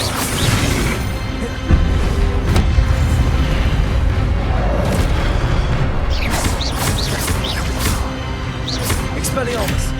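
Expelliarmus disarming spell cast in Hogwarts Legacy, a series of booming magical blasts and crashing bursts over loud combat ambience, with a voice speaking during the fight.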